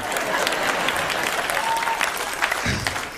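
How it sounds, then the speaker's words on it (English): Audience at a standup comedy show applauds, dense steady clapping that fills the whole few seconds, fairly loud with crowd noise. "Thank you very much for clapping."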